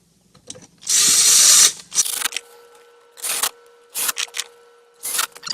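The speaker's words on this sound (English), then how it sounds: "Put all the screws back in." Power screwdriver driving screws back into a Volkswagen car dashboard, in several short whirring bursts with pauses between them, close and fairly loud.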